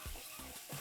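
Whole spices dry-roasting in a pan for a brinjal and potato curry, a short soft sizzle with a few stirring scrapes, faint and close.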